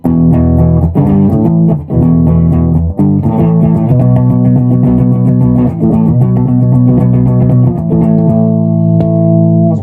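Carvin MTS3200 guitar amp, overdriven, with an electric guitar: thick distorted chords and sustained notes ringing loudly with a bit of reverb.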